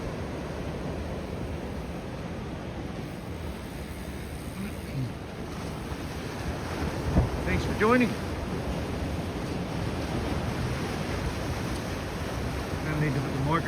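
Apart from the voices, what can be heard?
ocean waves breaking on the beach by a pier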